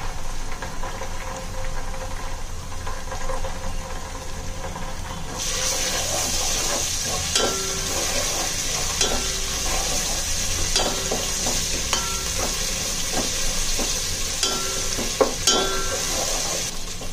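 Onion with ginger-garlic paste frying in a pan for misal, a steady sizzle and hiss with repeated scraping stirs of a spoon, the frying growing louder partway through; no voices.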